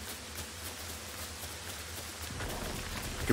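Steady hiss of rain falling in the video game Fortnite Lego, a constant wash of noise that grows slightly heavier toward the end, with no talk.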